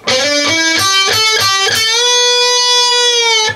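Electric guitar plays a lick: a quick run of distinct picked notes stepping upward, then a long sustained bent note that rings out loud and clear on its own.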